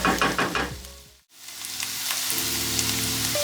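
Potatoes fry in a pan for a vegetable stir fry, giving a steady, close hiss and sizzle with clattering stirring at the start and a brief dip partway through.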